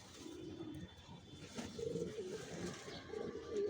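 Racing pigeons of long-distance Janssen lines coo softly in a loft, several low murmuring calls overlapping at moderate volume amid faint ambient noise, with no one talking.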